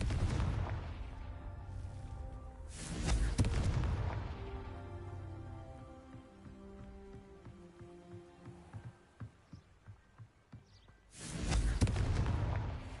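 Fire spell blasts from Confringo in the Hogwarts Legacy video game, a few heavy booming explosions spaced several seconds apart, each with a rumbling tail, loud and close over a quieter game soundscape.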